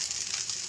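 An egg poured into a pan of frying rice crackles and sizzles softly and steadily throughout, close but fairly quiet, with no voices.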